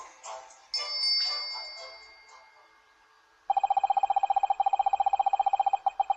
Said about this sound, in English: Oh, call bell.